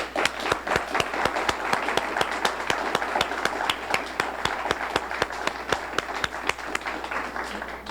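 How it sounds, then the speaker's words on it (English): An audience at a 1988 civic service awards ceremony applauds the recipients, a steady, evenly paced clapping that holds at a constant level from start to finish, with no speech over it. "join me in a round of applause for all the recipients"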